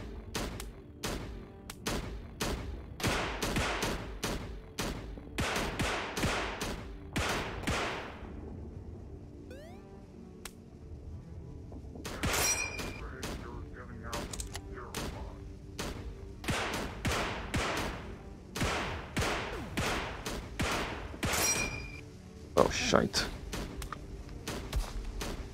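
Pistol gunfire in the VR shooter Cactus Cowboy: Plants at War, with rapid bursts of sharp shots, some whooshing effects and a quieter stretch midway, all without talk.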